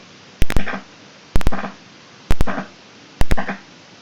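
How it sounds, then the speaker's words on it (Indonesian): A buzzer on a simple home intruder-detection sensor alarm, sounding four evenly spaced, close, sharp pulses, each a quick stutter of clicks followed by a short harsh buzz, with no talk. "maka sensor ini akan memberi peringatan lebih keras lagi berupa buzzernya akan bunyi"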